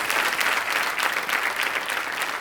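Studio audience at the Kaun Banega Crorepati TV quiz show breaks into loud, sustained, even applause, dense clapping filling the room with no voices on top.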